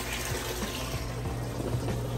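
A DIY cold plunge system pumps water in a loop through a filter and chiller, giving a steady, loud rushing and gurgling of circulating water with a constant pump hum and no break.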